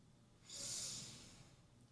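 One deep breath, drawn in and let out as a soft, airy rush, close and alone, lasting about a second before fading into quiet.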